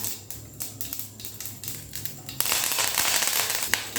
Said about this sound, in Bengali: যখন দেখবেন সর্ষেগুলো ফাটতে শুরু করেছে তখন গ্যাসের ফ্লেমটা বন্ধ করে দিয়ে এর মধ্যে দিতে হবে কিছু কারি পাতা